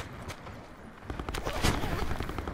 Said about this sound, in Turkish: Arkamdan vuruyor.